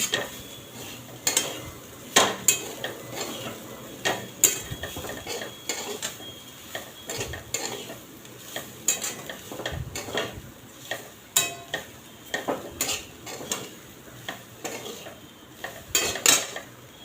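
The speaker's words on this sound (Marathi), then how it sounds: "जरा खोबऱ्याचा ओलसरपणा जाईपर्यंत चांगलं हलवायचा।" Metal spoon scraping and clinking against a pan while grated coconut is stirred until its moisture cooks off, a steady run of close, irregular scrapes and taps with no talk.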